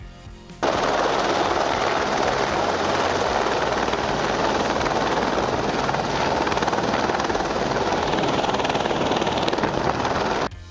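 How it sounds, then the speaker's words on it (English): Loud, steady helicopter rotor and engine roar, close by and continuous, with a rapid chopping thump running through it from start to finish, as the helicopter takes water from a swimming pool. "a helicopter is seen taking water from a swimming pool"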